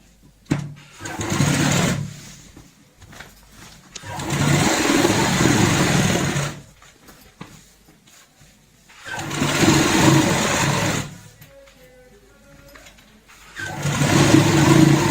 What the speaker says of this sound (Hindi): अब इसके ऊपर हम सिलाई लगा लेते हैं।